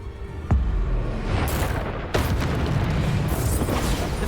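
Bombarda spell blasts in the Hogwarts Legacy video game, heavy booming explosions with a loud hit near the start and another midway, over a continuous dense rumble of combat effects.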